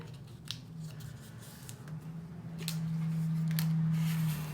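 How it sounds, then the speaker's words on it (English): Paper being folded and creased into an origami box, soft scattered crinkles and rubbing close up, with a low steady hum underneath. "Now I'm going to fold the other side."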